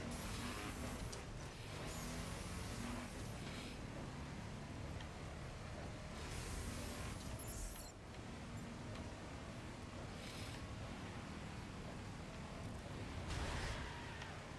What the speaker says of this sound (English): which is the default engine sound for every car in this